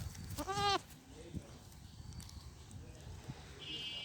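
A goat dressed in a small child's jacket, grazing on grass in the sun, lets out one loud, wavering bleat near the start, followed by quiet rustling and soft thuds outdoors.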